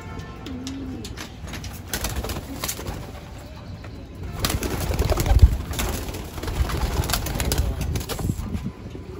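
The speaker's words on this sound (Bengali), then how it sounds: "এই যে হুন্ডা জয়ী কবুতর" Pigeons in a hobby loft coo in soft, low repeated calls amid light rustling and background noise, with occasional wing flaps nearby.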